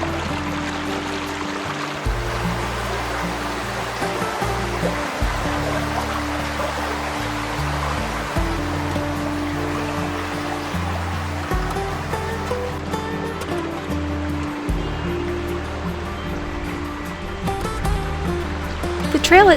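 Water drips and cascades down fern-covered canyon walls into a creek in Fern Canyon among the redwoods, making a continuous, even rushing wash that stays steady throughout.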